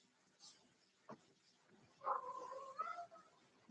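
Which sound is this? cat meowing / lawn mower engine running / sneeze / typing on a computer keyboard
cat meowing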